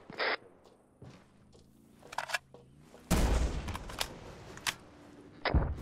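Gunfire and explosions from the military video game Arma 3: scattered rifle shots and bursts, then a heavy loud blast with a rumbling tail, followed by more sharp shots.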